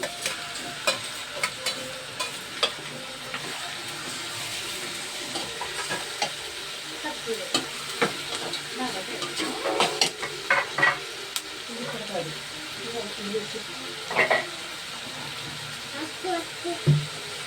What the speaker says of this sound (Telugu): ఉల్లిపాయ ముక్కలు వేసుకుని ఇది టమాటా ముక్కలు వేస్తున్నాను.